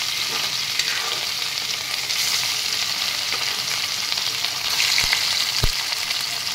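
Fish sizzles steadily in hot oil in a kadai, a loud continuous crackling hiss with two sharp clicks near the end.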